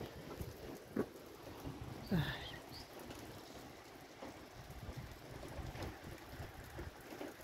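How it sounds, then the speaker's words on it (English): Faint rain approaches across an outdoor building site, a soft steady hiss with a couple of brief distant knocks and rumbles, quiet throughout and with no talking. "See, that's the rain is coming."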